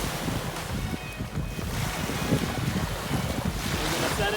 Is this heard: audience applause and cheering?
no